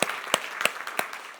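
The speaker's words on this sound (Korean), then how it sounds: "우리 주님께 감사와 찬양과 영광의 박수 올려드리겠습니다" A church congregation at a Christmas family worship service claps together, a short burst of several sharp, evenly spaced claps ringing through the hall with no talk over them.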